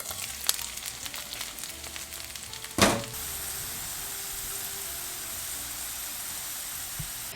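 Potatoes fry in a covered pan with a steady, even sizzle and hiss, broken near the start by a brief louder crackling burst before settling into a constant moderate frying noise.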